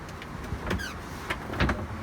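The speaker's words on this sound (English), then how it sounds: "This is a pull-out seat," A pull-out seat on a 2020 Boston Whaler 380 Realm boat slides out with soft mechanical scrapes and a few knocks, close and moderately quiet over light background noise.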